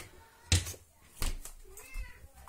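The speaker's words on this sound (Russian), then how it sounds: "Мяу, Мася" A short, faint meow from a cat indoors, set among a few soft thumps and household knocks.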